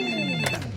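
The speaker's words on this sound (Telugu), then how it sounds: "ఫోనే మోగుతుంది" A phone ringtone sounds alone, clear and close, its tones sliding briefly with a short burst of noise in the middle.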